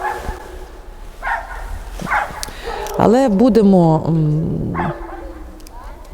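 A dog barks and yips in a short burst, its howling whine rising and falling, while a person talks nearby before and after.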